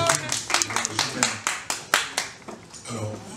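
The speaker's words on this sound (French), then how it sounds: "Applaudissez pour lui" Scattered audience clapping after a press conference, a handful of distinct sharp claps in an uneven rhythm, fairly close, with voices faintly underneath.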